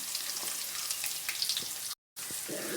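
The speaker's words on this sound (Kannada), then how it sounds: "ಹಸಿಮೆಣ್ಸಿಕಾಯಿ ಫ್ರೈ ಆದಮೇಲೆ ಈರುಳ್ಳಿ ಆ್ಯಡ್ ಮಾಡ್ಕೊತಿದ್ದೀನಿ ನಾನು." Green chillies fry in a pan with a steady, broadband sizzle that continues near and fairly loud, broken by a short total dropout near the end, with faint stirring clicks.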